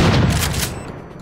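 A grenade blast in Garry's Mod: a loud, dense boom that rolls and rumbles for about a second before dying away, with a faint tone lingering after.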